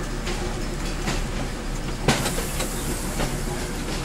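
Train rolling over railway tracks on Kraków industrial sidings, a continuous close rumble with rhythmic clicks from the rails and one sharper clunk midway, no voices.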